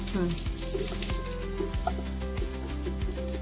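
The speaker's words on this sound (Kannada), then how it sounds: "ಕ್ಯಾರೆಟ್ ಒಂಚೂರು ಎಣ್ಣೆನಲ್ಲಿ ಚೆನ್ನಾಗಿ ಬಾಡಿಸ್ಬಿಟ್ಟು" Grated carrot sautéing in hot oil for a homemade potato samosa filling, a steady close sizzle with repeated stirring scrapes of a spoon in the pan, continuous throughout.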